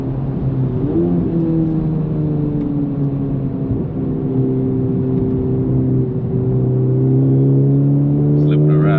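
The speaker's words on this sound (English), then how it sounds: "I can still hear the turbo noises from the intake because this exhaust isn't annoyingly loud" Honda Civic Type R FL5 fitted with an AWE Touring exhaust, driven hard on the road: a steady, moderately loud engine drone with a whirring turbo intake sound, with rising revs near the end.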